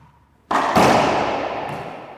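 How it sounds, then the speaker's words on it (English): A racquetball down-the-line shot striking the court wall: one loud, sharp smack that rings out in a long, fading echo around the enclosed court. "he's going to hit the ball and it's going to come back to him, back in the back part of the court"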